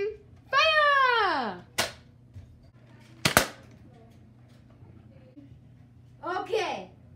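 Nerf blasters firing in a backyard point battle, two sharp snapping pops with a third at the end, close and loud, separated by excited children shouting and squealing.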